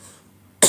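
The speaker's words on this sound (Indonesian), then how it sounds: "batuk-batukan sambil ucapkan bismillah, Allahu Akbar" A single sharp, loud cough made deliberately during a group therapy session, a short burst after a near-silent pause.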